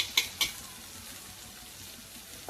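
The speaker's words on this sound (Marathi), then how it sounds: "कांदा आपला चांगला आपल्याला भाजून द्यायचा आहे" Onion fries with salt in a pan for a home-style mung bean usal. Two quick utensil clicks come first, then a faint, steady sizzle.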